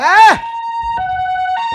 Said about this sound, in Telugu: అంబులెన్స్ వచ్చేసా సార్